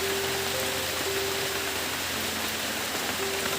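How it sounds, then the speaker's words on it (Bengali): Steady rain hisses outside, an even wash of noise with a faint low hum underneath and no voices. "বাইরে এখন বৃষ্টি চলছে"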